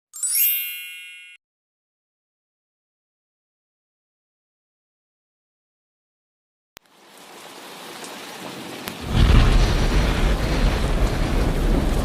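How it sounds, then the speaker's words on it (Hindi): In a cartoon, a brief bright chime fades into silence, then heavy rain swells in and pours steadily and loudly to the end. "कितनी जोर की बारिश हो रही है।"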